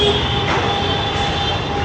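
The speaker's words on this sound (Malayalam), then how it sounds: "വണ്ടീൻ്റെ ഹോണടി കേട്ടിട്ട്" Vehicle horns blare in busy street traffic on Mohammed Ali Road in Mumbai's Masjid wholesale market, a near, continuous honking tone sitting over a steady roadway rumble.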